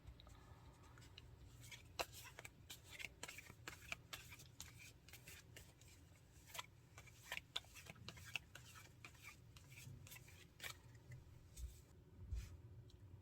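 Tarot cards being shuffled by hand, a soft papery rustle with quick riffling clicks and flicks repeating irregularly throughout, close and fairly quiet with no talking.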